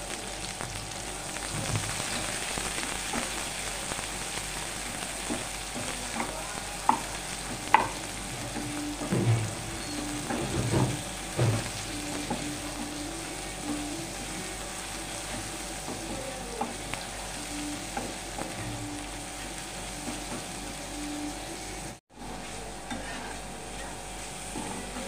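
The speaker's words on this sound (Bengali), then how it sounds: "তেলটা গরম হয়ে এসেছে, পেঁয়াজ কুচিটা আমি দিয়ে দিচ্ছি।" Chopped onion and green chilli frying in hot oil for musur dal kaliya: a steady, moderate sizzle runs throughout, with occasional stirring scrapes and clinks near the start and middle, and no one speaking.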